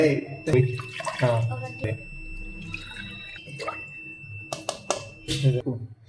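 Lentils being washed in water for tomato dal, with splashing, sloshing and dripping in a bowl under steady talking, followed by a few sharp clatters of water and grains near the end.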